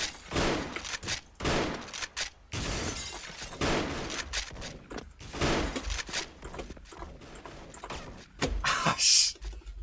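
Rapid bursts of gunfire in the online shooter Special Force crack in clusters and quick volleys, loud and close, with short gaps between shots and no clear speech.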